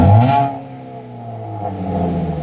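A 2012 car with a 2-litre petrol engine and automatic transmission is revved once close up, the engine note rising sharply then falling back to a smooth, even idle hum.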